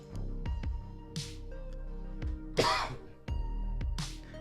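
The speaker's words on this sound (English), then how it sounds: "I'm coughing a lot this morning" A few short, harsh coughs or throat-clears burst out at intervals, close to the microphone, over steady background music during a Flesh and Blood card game stream.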